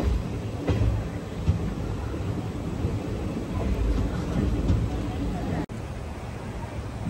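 Special train 07219 runs on its inaugural Narasapur to Arunachalam run near Gudivada Junction, heard as a steady rumble of wheels and carriages. The rumble is continuous and close, with a brief dropout near the end.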